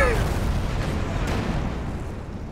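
B4 howitzer shells from an artillery barrage slam into a Panzer IV tank in Company of Heroes 2, a heavy booming impact with a whistling incoming shell at the start and rumbling decay, under a commentator's talk.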